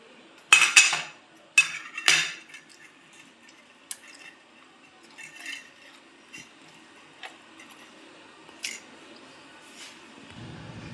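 Metal spoon scraping seeds out of a halved muskmelon: a few sharp clinks and scrapes close up near the start, then sparse softer taps and scoops over a quiet background.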